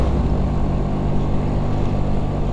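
A Vespa PS scooter engine runs close by with a loud, rough, continuous motor drone and no talking.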